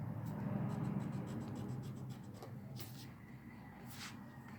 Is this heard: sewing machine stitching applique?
no